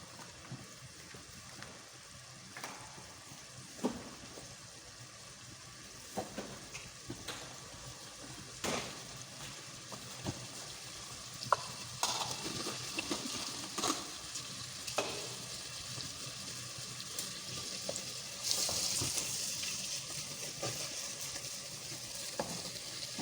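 Grated carrots with cardamom fry in a pan for gajar halwa, sizzling steadily on high heat while a spoon scrapes and stirs them with repeated clinks and knocks.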